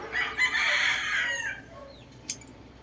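A Black Alabama gamefowl rooster crows once nearby, a long strained call lasting about a second and a half, followed by a faint short click in an otherwise quiet setting.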